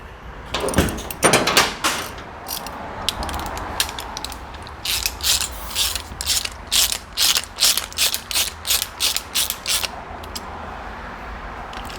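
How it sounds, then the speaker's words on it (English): Socket wrench ratcheting on a frame slider bolt of a 2023 BMW S 1000 RR motorcycle, with a few irregular clicks first and then a steady run of about a dozen quick, evenly spaced ratchet bursts, close and clear, with no voices. "and our socket wrench."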